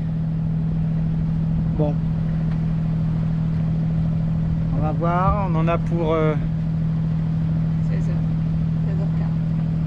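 A sailboat's inboard motor drones steadily at cruising speed at sea, a constant low hum that continues beneath conversation among the crew.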